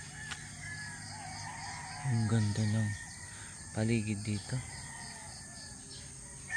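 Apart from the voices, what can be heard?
chickens and rooster crowing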